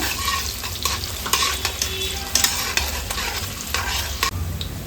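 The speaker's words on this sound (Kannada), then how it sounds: "ಒಂದು ದೊಡ್ಡ ಸೈಜದ ಈರುಳ್ಳಿನ ಕಟ್ ಮಾಡಿ ಹಾಕ್ಕೊಳ್ತಾ ಇದ್ದೀನಿ ಚೆನ್ನಾಗಿ ಫ್ರೈ ಮಾಡ್ಕೊಳ್ಳೋಣ" Chopped large onion with whole spices frying and being stirred in a hot pan, a steady loud sizzle broken by scraping strokes of the spoon, close up and without voices.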